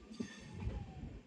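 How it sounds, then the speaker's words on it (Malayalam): A train moving through Palakkad Junction railway station, with a steady low rumble and rolling rail noise at moderate distance, swelling slightly midway, with no voices. "എൻ്റെ ബാക്ക്ഗ്രൗണ്ടിൽ ഇതാ ട്രെയിൻ നീങ്ങിക്കൊണ്ടിരിക്കുന്നത് നിങ്ങൾ കാണുന്നുണ്ടാവും അല്ലേ?"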